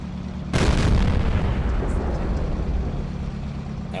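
Tank cannon firing at an E-100 in a tank video game, a single sudden loud boom that is followed by a long rumbling decay over steady engine hum.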